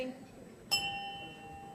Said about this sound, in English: I'm ringing the bell for my son, Tyler Vandiver